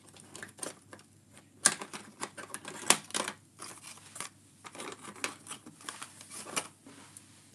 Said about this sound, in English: So I'm going to bring my scissors in.